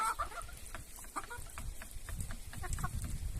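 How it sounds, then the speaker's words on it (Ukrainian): Chickens and roosters, including white hens and a Brahma-cross rooster, on a village farmyard in spring sunshine, clucking in short repeated calls over a low rumbling background, fairly near and moderate in level. "А це півники, ось курочки."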